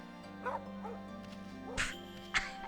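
A dog in the video game Okami HD gives a few short yips and barks, then two louder, sharper barks near the end over a steady game soundtrack.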